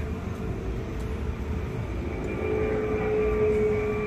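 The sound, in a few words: airplane flying over Miami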